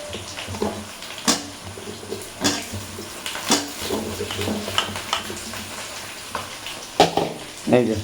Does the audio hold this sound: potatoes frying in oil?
yes